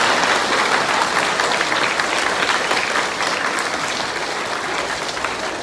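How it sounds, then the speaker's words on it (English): A seated audience at an award presentation breaking into sustained applause, dense clapping from many hands that fills the space and fades only slightly toward the end. "You can clap for me, it's okay."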